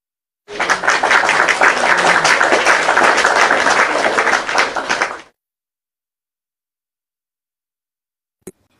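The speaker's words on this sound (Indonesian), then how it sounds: "Tepuk tangan Nor." An audience claps in a dense, loud burst lasting about five seconds, then stops abruptly into silence, followed by a single sharp knock near the end.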